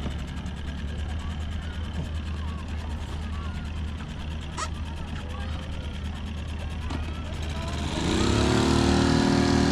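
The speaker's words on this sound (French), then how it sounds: "il est en train de régler le moteur" A motor runs steadily while it is being adjusted, a constant chugging drone that jumps louder and higher near the end as it revs up, with faint voices underneath.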